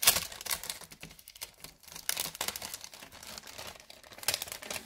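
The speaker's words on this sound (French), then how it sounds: "On ouvre le papier 21." Paper crinkling and tearing as a small wrapped package is opened indoors, with a steady run of close, crisp rustles and crackles and no talking.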